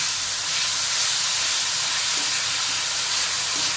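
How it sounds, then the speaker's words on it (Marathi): Grated radish sautés in a pan with chili flakes over low gas, giving a loud, continuous broadband sizzle and hiss that holds steady throughout, with no voices. "त्यामध्ये किसलेला मुळा टाकूया आणि परतून घेऊ."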